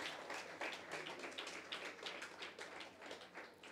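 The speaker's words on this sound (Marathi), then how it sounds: "त्याबद्दल एकदा जोरदार टाळ्या वाजवून देवाला आपण धन्यवाद देऊयात।" A church congregation claps together in sustained, steady applause at a Good Friday service, a dense run of hand claps at moderate loudness lasting throughout with no talk over it.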